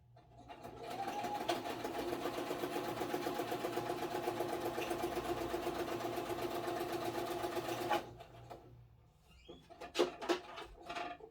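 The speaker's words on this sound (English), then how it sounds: "just going to do a straight stitch" A sewing machine runs a straight stitch in a steady, fast mechanical whir for about seven seconds, then stops, followed by a few sharp clicks and handling noises.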